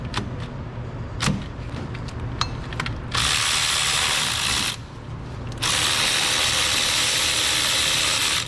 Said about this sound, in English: Go ahead and start removing the bolts for the power steering pump.